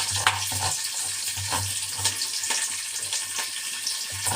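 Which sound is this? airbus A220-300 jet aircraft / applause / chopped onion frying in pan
chopped onion frying in pan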